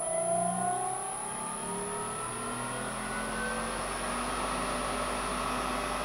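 An electric motor driven by an HS127 inverter spins at top speed, about twice line frequency, giving a steady whine with rising tonal sweeps over a continuous hum, no talk.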